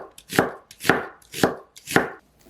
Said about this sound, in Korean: 양파 3개는 얇게 썰어주세요.